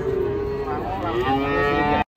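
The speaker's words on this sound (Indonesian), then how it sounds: "Penurunan sapi di pasar Muntilan guys." Loud, close mooing of cattle being unloaded from a truck at Muntilan market, one long bellow sliding in pitch, layered over a busy background of other animals and crowd noise before cutting off abruptly.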